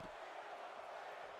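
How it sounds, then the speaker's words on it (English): Arena crowd in the WWE 2K22 wrestling video game chanting in a steady, dense wash of voices, loud and continuous throughout with no commentary over it. "Crowd chanting, "We want tables," but there's one in the ring."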